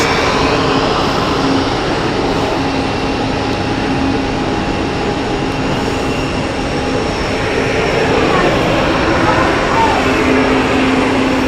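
A Swiss airliner rolls past on the taxiway at Zurich Airport, its engines giving a loud, steady broadband roar with a constant whine that holds throughout, close by.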